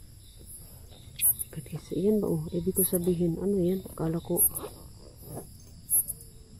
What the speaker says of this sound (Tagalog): O, diba? Kuliglig.